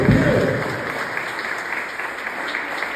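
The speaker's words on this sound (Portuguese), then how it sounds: "Você pode dar minhas palmas para Jesus?" A church congregation clapping during a worship service, a burst of applause that starts strong and settles into steady, moderately loud clapping.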